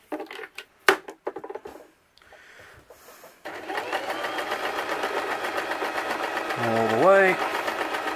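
After a short stretch of speech and handling noises, a sewing machine stitching a Viking-style hood runs with a steady, fast mechanical whir, then slows and reverses briefly for a back stitch, close and loud.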